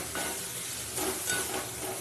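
Shredded cabbage stir-fried dry in a pan without water gives a soft, steady sizzle with faint scraping stirs, quiet and close, no talking.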